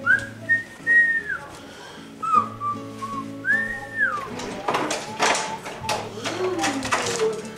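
Someone whistles a short melodic tune in bright sliding notes, then clattering and tapping sounds take over, with a voice talking underneath.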